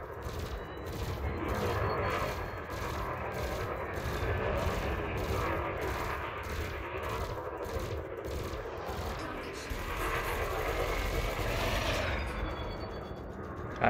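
Ship-mounted guns in Elite Dangerous Odyssey fire in rapid, evenly spaced bursts over a dense, roaring space-combat background, loud and continuous for the whole stretch, with a brief pause near the end.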